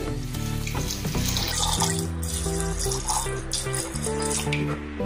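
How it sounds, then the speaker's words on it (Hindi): Water runs steadily into a pot of pav bhaji vegetables for several seconds, a continuous splashing pour with a faint tonal hum beneath, close and fairly loud. "अभी इसमें हम पानी डालेंगे।"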